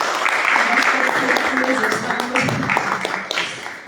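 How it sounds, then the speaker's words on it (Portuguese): An audience applauds at a book launch ceremony, with a burst of clapping heard under and among voices. Someone speaks over it and the clapping thins out toward the end. "Mais uma vez, uma salva de palmas."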